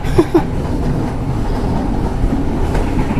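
Interior of an Indonesian Sribilah passenger train running on rails, a steady low rumble and rolling clatter filling the carriage, with a couple of brief knocks near the start.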